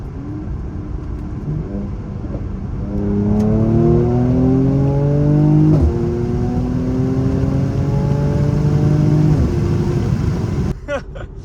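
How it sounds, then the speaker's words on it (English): A Mercedes-AMG C43 (W205) with its stock exhaust and DCT gearbox accelerating hard through gears, engine tone climbing and dropping at each shift with crisp pops, loud and close from inside the car, ending with a sharp burst. "the DCT pops through the shift. It's so crisp. So crisp every time, and this is a completely bone stock exhaust"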